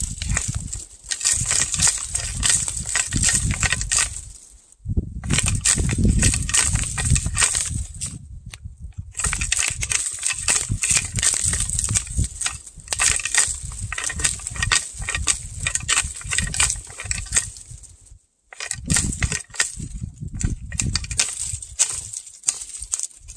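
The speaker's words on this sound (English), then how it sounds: "I've had more success getting bucks in just scraping bushes." Deer antlers raked against a bush to call whitetail bucks: loud, close, continuous brushy scraping and crackling of branches in long bursts, separated by brief pauses.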